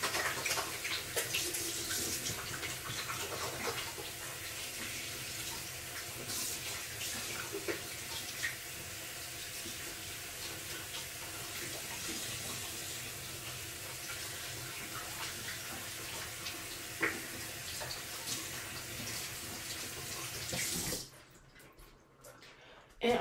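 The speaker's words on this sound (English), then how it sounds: "I'm going to rinse my hands off now." Tap water runs steadily while hands are rinsed under it, making a soft splashing rush that lasts about twenty seconds and then cuts off abruptly near the end.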